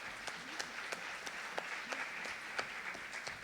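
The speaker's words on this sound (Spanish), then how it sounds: "también pido un aplauso para ella" Light, scattered clapping from a small audience, fairly quiet and distant, continuing steadily throughout.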